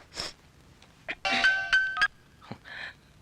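A phone in a Telugu film scene rings with an incoming call: a short electronic ringtone melody, moderately loud and up close, surrounded by a few scattered clicks and taps.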